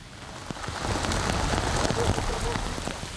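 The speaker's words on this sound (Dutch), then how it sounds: "Het is een regenachtige dag. Het regent eigenlijk heel september al." Rain falls steadily on a wet September day outdoors, a dense continuous patter of drops on surfaces, with a few scraping and knocking sounds mixed in.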